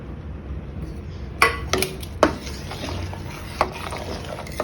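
Almond milk with custard powder stirred in a pot, with a soft liquid swirl punctuated by several sharp metallic clinks of a spoon against the pot's side.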